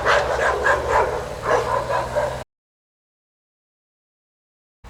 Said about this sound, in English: This gang of dogs is running around tormenting kids.